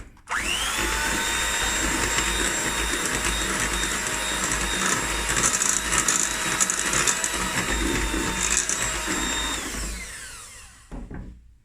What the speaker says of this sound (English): I'm going to mix this together.